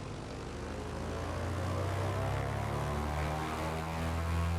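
A propeller airplane engine at full throttle in Microsoft Flight Simulator, held on the parking brake: a steady, loud droning hum with a low rumble that builds slowly, alone with no voices.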